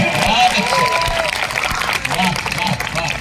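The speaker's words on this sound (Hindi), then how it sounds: "तालियां बजा दो यार, ढंग से बजा" Audience applause at a Hindi comedy poetry gathering, dense steady clapping from a crowd with a voice speaking over it and cheers scattered throughout.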